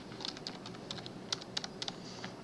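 Someone types a password on a computer keyboard at a Linux terminal: a quick, faint run of soft key clicks with uneven spacing, heard alone against a low steady background hiss.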